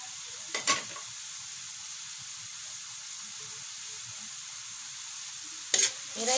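Marinated pork bola-bola browns in a pan with a soft continuous sizzle, and two short bursts of stirring or clatter stand out at the start and near the end.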